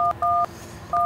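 Telephone keypad dialing tones from a phone call in a Hyderabadi comedy sketch: three crisp, loud two-tone beeps, the first short, the second longer, then a pause before the third, with a quiet room behind them.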